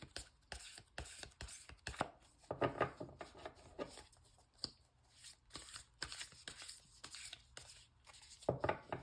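Tarot cards are shuffled repeatedly in quick riffling bursts with soft slaps, close and fairly quiet, with no voices.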